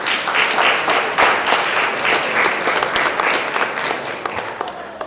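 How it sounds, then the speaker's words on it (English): Loud, sustained audience applause at a school computer studies fair, dense clapping from many hands that stays strong for about five seconds and eases slightly at the end. "How about a round of applause for all three groups?"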